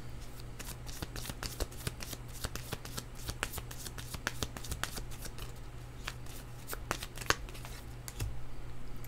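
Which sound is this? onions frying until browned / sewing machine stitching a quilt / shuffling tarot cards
shuffling tarot cards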